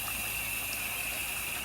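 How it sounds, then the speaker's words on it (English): Tap water pours steadily into a pot being filled to boil farro, a continuous close rushing stream with no break and no one speaking. "I'm probably gonna put 8 cups or so of water on to boil"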